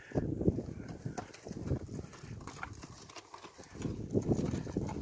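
Horse trotting with hooves clip-clopping in a steady rhythm outdoors, moderately close, with some ambient noise and faint bird sounds.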